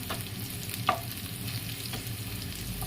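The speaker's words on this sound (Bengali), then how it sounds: "পেঁয়াজটা রসুনটা কাঁচা লঙ্কা একসঙ্গে ভাজা হচ্ছে" Onion, garlic and green chilli fry together in a generous amount of oil, producing a steady bubbling sizzle with a sharp stirring scrape near the start and lighter clicks of the spatula throughout.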